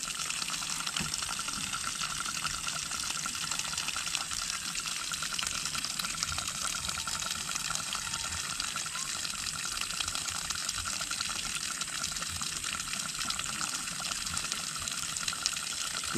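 Water gushes steadily from the pipe of a home-made deep well with no pressure pump, a continuous rushing splash that holds at an even level and stays close and fairly quiet, with no voices.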